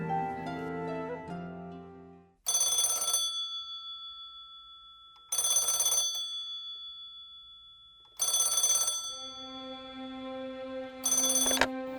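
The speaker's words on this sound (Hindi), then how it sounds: "मोहम्मद अली जिन्ना से हिंदू मुस्लिम एकता पर चर्चा करने के लिए उन्हें फोन लगाया।" A telephone bell rings in loud repeated bursts, four rings at steady intervals, each trailing off, with a faint musical tone underneath and no talk.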